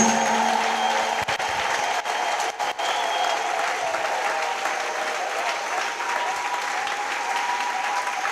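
Church congregation applauding at a seventh-anniversary service, a steady, full round of clapping from a large crowd that carries on throughout, close and loud, with brief gaps near the start.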